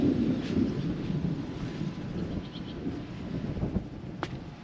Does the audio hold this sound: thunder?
yes